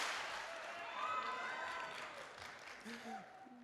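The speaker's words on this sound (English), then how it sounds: "Appreciation clap on 3." A crowd at a high school event claps together in a burst of applause that fades out, with a voice speaking briefly near the end.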